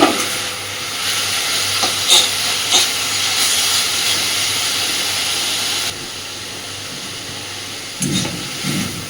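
Bottle gourd leaf paste frying down in a pan on a gas flame, its water cooked off: a loud, continuous close hiss of steam and sizzle, broken by occasional scraping stirs.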